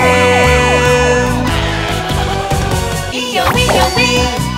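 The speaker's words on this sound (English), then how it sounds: "A police car goes to the scene." A cartoon police car siren sounds in a children's Halloween song, its wavering wail rising and falling over loud, continuous music with sung melody throughout.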